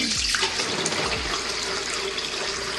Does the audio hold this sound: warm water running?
yes